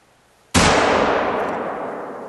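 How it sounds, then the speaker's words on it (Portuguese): Single loud hunting rifle shot in theHunter, fired during a hunt in the Medved Taiga reserve: a sharp crack that gives way to a long, slowly fading rumble and echo, heard alone. "Disparo efetuado."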